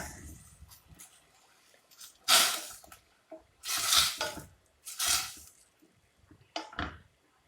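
Rice dough balls dropped one by one into boiling coconut milk in a pot, giving several separate splashy plops with bubbling and clinking between them, fairly close and quiet overall.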